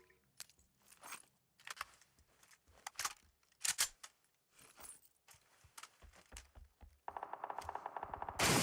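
PUBG gunfire cracks out in scattered single and double shots at varying distance, then settles into a rapid automatic burst near the end, with faint scuffling between shots.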